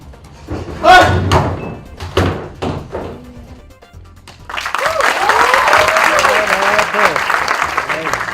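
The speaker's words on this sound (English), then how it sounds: "Please give him a huge round of applause for a fantastic performance." A college festival audience bursts into loud, dense applause after a performance, following a stretch of voice and sharp knocks; a voice carries on faintly over the sustained clapping.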